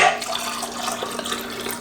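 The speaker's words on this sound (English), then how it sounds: "I'm gonna have to pour the water in right away to get them to stay down." Water pours steadily into a Presto Precise digital canner holding jars of applesauce for water bath canning, a continuous splashing rush that holds close and fairly loud for the whole stretch.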